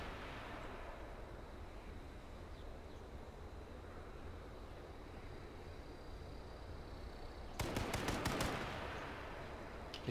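Gunfire in the survival shooter H1Z1: a quick burst of several sharp shots near the end, moderately close, over a quiet steady outdoor hiss.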